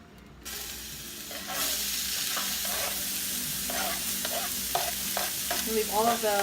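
Onions and shrimp pieces fry in olive oil in a paella pan, with a steady sizzle after a brief quiet start and scraping stirring strokes toward the end.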